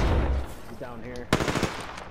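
Gunfire from Apex Legends gameplay, with a low rumble up front and then a sharp burst of rapid machine-gun shots near the end, with a voice speaking briefly in between.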